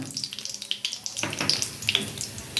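Radhuni seeds temper in hot oil for fish shukto, giving a soft, steady crackle and sizzle with scattered small pops and spits throughout, close and moderately quiet, with no talking.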